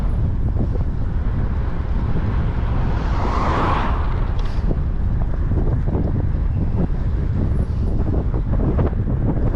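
Steady headwind buffeting the microphone while cycling on a Romet bicycle, a low roar throughout, gusting briefly louder midway, no voices.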